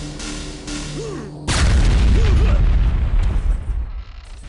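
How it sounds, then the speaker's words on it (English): Rocket blasts in Quake on the Rankin map: a sharp onset of booming explosions with rumbling decay, preceded by weapon hum and swooping game tones, loud and close, tailing off after a few seconds. "Rockets coming out, predicting way ahead of time"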